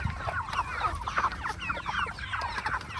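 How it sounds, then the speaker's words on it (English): A flock of healthy chickens clucking and chattering nearby, many overlapping short calls in a busy, irregular rhythm with no talking. "So these chickens are up and moving and healthy."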